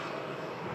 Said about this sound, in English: Rolls-Royce Trent engines, the power base of this 330. About to snarl up and get this aircraft airborne.